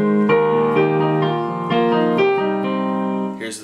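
Solo piano plays the intro of a song, bright sustained chords with a steady run of repeated notes, close and loud with no voices.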